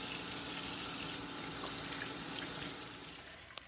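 A kitchen tap runs while hands are washed during stew preparation, giving a steady, even hiss of flowing water that fades as the tap is shut off at the end, followed by a small knock.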